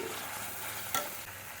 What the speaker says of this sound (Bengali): দিয়ে ভালো করে একটু কষিয়ে নেব দিয়ে দিলাম টমেটো